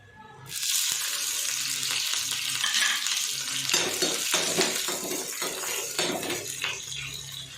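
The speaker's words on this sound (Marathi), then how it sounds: "मिरची चांगली तडतडली आपली" Green chillies crackle loudly in hot ghee for a peanut chutney tempering, a sudden burst of dense sizzling and popping that carries on steadily up close with occasional spoon clinks against the pan.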